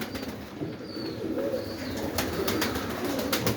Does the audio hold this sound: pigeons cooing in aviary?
yes